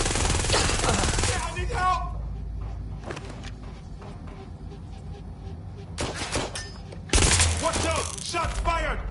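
Gunfire in Watch Dogs Legion, with loud bursts of rapid shots at the start and again near the end, quieter scattered shots in between, and some voices mixed in under the game noise.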